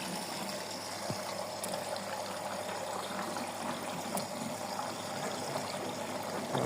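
A washing machine fills with water during a detergent sheet wash test, a steady, fairly quiet rush and trickle of inflowing water running continuously with no voices.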